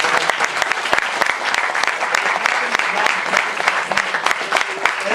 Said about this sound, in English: I believe we just need a big round of applause